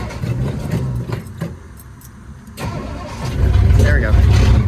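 A Ford Sunliner engine cranks and catches after fuel pump and carburetor work, sputtering briefly before firing into a loud, steady run up close, with people talking around it.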